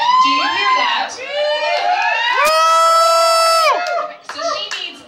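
An audience cheers and applauds loudly, with high whoops and shouted voices over steady hand clapping that swells through the middle and tapers off near the end.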